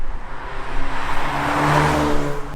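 A VW Golf R being driven fast in a straight line: a steady engine drone with rising tone and a whirring hum under road and wind noise, loud and close throughout.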